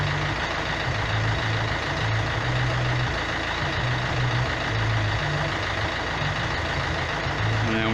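A car engine idles steadily with a constant low rumble and a faint, periodic pulsing, running alone for several seconds while it is tested with a Pico automotive oscilloscope.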